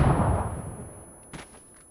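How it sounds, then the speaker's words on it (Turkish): A grenade blast in the PUBG video game, a loud low boom at the start that decays over a second, followed by a brief faint pop. "Bu neden bomba attı ya?"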